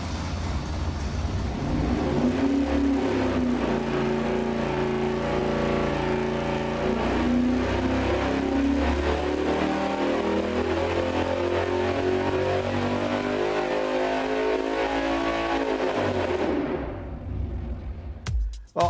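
A muscle car engine roars on a dynamometer test, holding a loud, sustained wide-open pull for about seventeen seconds with its pitch climbing and then easing before it cuts off abruptly.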